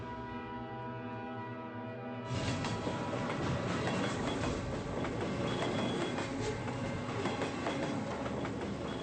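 After a steady droning tone, a train suddenly roars past up close, with loud rattling wheels and clattering cars that continue to the end.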